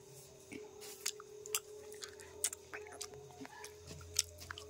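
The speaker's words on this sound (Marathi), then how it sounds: "एका शेंगाची चव घेतो कसे झाले." A cooked bean pod from a chicken popti clay-pot roast is chewed close up: soft, wet, irregular bites and squishy crunches, faint and intermittent over a quiet background hum, with no speech.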